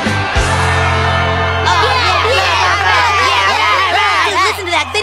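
Video game crowd cheering in Guitar Hero, a loud sustained roar of whoops and shouts over a low steady hum, with voices talking throughout.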